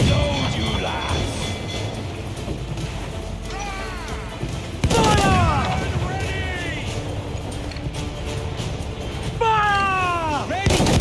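Ship cannons firing aboard a pirate vessel in Assassin's Creed Black Flag, several loud booming volleys with crashing debris and whistling projectiles, under shouted crew commands.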